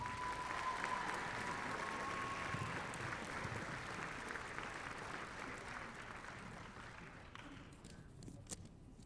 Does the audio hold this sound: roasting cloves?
no